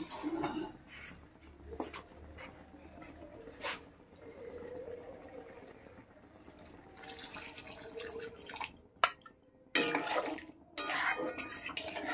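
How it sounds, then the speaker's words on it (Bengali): Water poured from a vessel into a cooking pot of potato and tomato curry being made a little soupy, heard as a close, uneven splashing rush that swells and breaks off near the end with small clatters. "এবার আমি জল দিয়ে দেবো"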